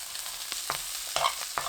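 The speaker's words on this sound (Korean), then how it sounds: "마늘종 넣고 중불에서 1분 볶아주세요" Garlic scapes stir-frying in oil in a pan over medium heat, giving a steady soft sizzle broken by several quick scraping strokes of a spatula, close and without any voices.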